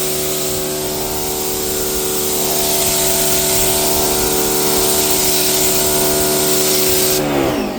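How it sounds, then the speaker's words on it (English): A pressure washer with a swivelling underbody attachment sprays beneath a truck: a loud, steady rushing hiss over a constant motor hum, close and unbroken, cutting off right at the end. "So I just turned my pressure washer on."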